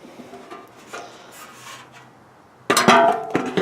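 A red Scotch-Brite pad rubs across the painted metal side tins of a John Deere 210, giving faint scratchy strokes followed by a louder, close burst of abrasive scrubbing.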